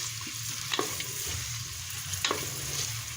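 Two onions frying and being stirred in a pan for aloo gosht, a steady close sizzle with scraping stirs at intervals and no talk.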